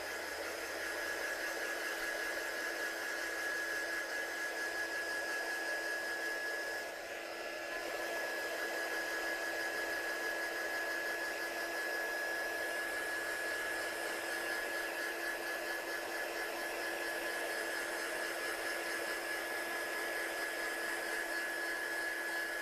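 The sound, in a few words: drying a handmade card with a dryer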